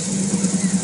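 A used AMC 360 V8 engine idles on a test run, a steady low rumble with a gentle rhythmic pulse, close and fairly loud.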